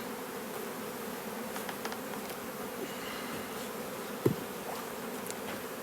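Honeybees buzz around an open hive during a late July colony inspection, a steady close swarm drone with individual bees passing the microphone and a single soft knock near the end.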